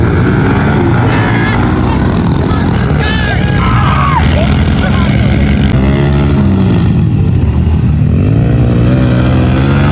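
Pit bike motorcycles racing in a heat race at a dirt track, several small engines droning and revving loudly and continuously, pitches rising and falling as the bikes accelerate and pass close by throughout.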